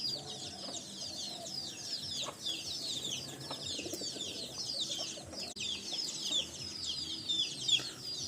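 Chickens on a farm in the early morning make a busy mix of clucks and high chirps, many birds calling over one another at a moderate, steady level.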